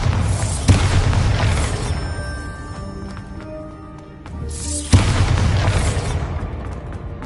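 Two heavy booming spell blasts from the Bombarda explosion spell in Hogwarts Legacy, one near the start and a louder one midway, each followed by a long rumbling decay over a dense game soundscape.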